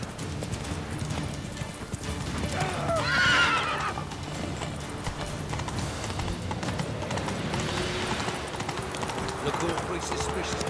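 Roach, a horse in The Witcher 3 video game, whinnies loudly once while hooves clip-clop steadily throughout at a gallop, with someone talking over the game sounds.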